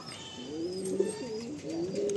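A female pigeon coos softly in a few rising and falling phrases, close by, with faint background hiss and no talking.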